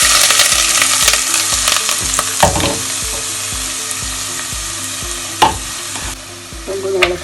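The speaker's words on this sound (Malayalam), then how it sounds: "ഇഞ്ചി ഒന്ന് നല്ലപോലെ ഇളക്കി ഇതൊന്ന് പാകമാകട്ടെ." Chopped ginger fries with mustard seeds in hot oil for a Kerala puli inchi, a loud continuous sizzle close by, broken by the scrape and clatter of repeated stirring in the pan and no voices.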